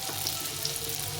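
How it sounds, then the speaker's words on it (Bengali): Pumpkin pieces fry in a pan for a Bengali pumpkin chhokka, a short burst of close, steady sizzling hiss with no voices. "দেখো সুন্দরভাবে এখানে ভেজে নিতে হবে, তাহলে খেতে ভালো লাগবে।"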